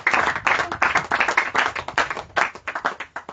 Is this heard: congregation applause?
yes